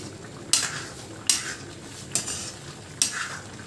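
Tomato and onion masala being stirred in a pan over high heat, with four distinct scraping strokes spaced about a second apart over a quiet sizzle.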